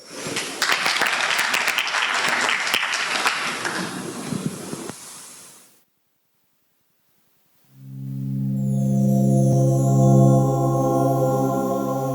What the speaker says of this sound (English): a round of applause to all our speakers